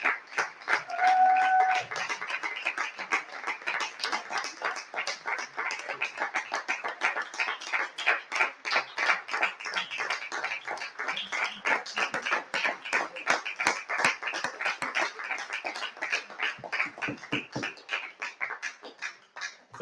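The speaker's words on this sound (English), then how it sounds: "the round of applause pays testament to how much these guys do for us" Sustained applause from an audience at an annual awards night, steady rapid clapping from many hands that carries on for about twenty seconds without talk.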